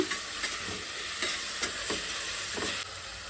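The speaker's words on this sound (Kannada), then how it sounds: "ಕೊತ್ತಂಬರಿ, ಪುದೀನ ಇದನ್ನು 1-2 ನಿಮಿಷ ಎಣ್ಣೆಲಿ ಚೆನ್ನಾಗಿ ಫ್ರೈ ಮಾಡೋಣ." Coriander and mint stir-fried in oil for a simple rice bath: a steady hissing sizzle, close and continuous, broken by a few soft scrapes of a spatula against the pan.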